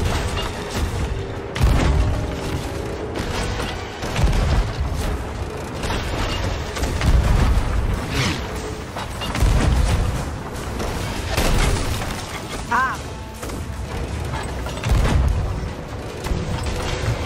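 Ship cannons in the pirate game Sea of Thieves boom repeatedly amid a dense, continuous battle din, heavy thuds landing every second or two with no clear pauses.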